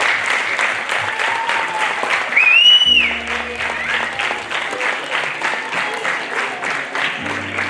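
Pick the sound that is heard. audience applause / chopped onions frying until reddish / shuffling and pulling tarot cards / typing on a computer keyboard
audience applause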